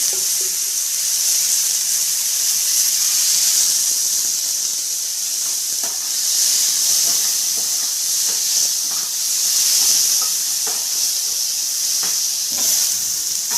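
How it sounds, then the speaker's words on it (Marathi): Tomato frying in a little oil in a pan for a spicy Maharashtrian brinjal curry, a steady close hiss and sizzle with faint stirring scrapes throughout, no talking. "आता याच्यातच एक टोमॅटो तो पण परतून घेते तेलामध्ये थोडंसं तेल सोडून घेते"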